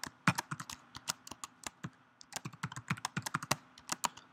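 Keystrokes on a computer keyboard entering a root password during a Solaris 11.1 install in VirtualBox, a close, steady run of sharp clicks with a brief pause near the middle, no voices.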